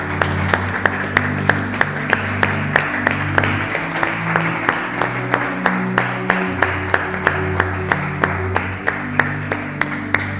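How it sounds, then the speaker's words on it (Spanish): A church congregation claps in a steady, rhythmic beat during a Sunday sermon, with loud, evenly spaced strokes over a sustained musical backing. The clapping runs through the whole stretch and no one speaks. "¿Cuántos pueden dar un aplauso a Jesús?"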